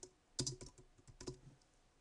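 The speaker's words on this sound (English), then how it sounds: "And then I'm going to type some names down here." Typing on a computer keyboard while working in photo editing software: a short, quiet burst of crisp key clicks in two small clusters, close to the microphone, with no talk.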